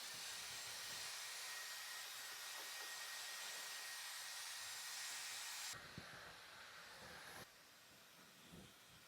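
A hair dryer blows with a steady loud hiss while drying hair, then drops to a lower setting and cuts out near the end.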